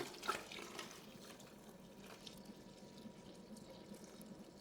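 Water pours into a bucket of thick homemade laundry soap, a faint steady splashing trickle with a brief louder gush at the start, quiet and close.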